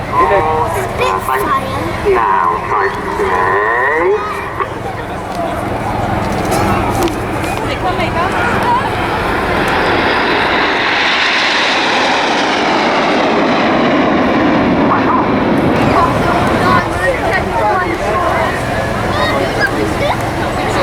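Red Arrows display jets pass overhead at the Bournemouth Airshow 2015, a loud sustained roar that swells and fades over about twenty seconds while a commentator talks throughout.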